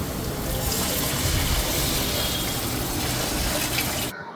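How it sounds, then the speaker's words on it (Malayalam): Water poured from a vessel into a pan of fish curry masala as it cooks, a steady splashing gush that runs close and fairly loud for about four seconds, then cuts off abruptly. "വെള്ളം ഒഴിക്കട്ടോ"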